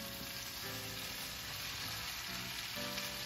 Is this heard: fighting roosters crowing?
no